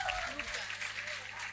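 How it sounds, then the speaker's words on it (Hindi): Brief, faint applause from an audience cheering students at a university Independence Day event, a soft wash of clapping with a voice faintly under it. "तालियों की गड़गड़ाहट बनी रहनी चाहिए।"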